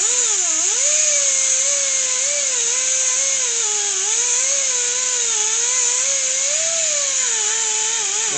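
A power tool with sandpaper polishes a snowflake-style wheel rim, producing a loud, continuous high-pitched whine that wavers slightly in pitch as the load changes.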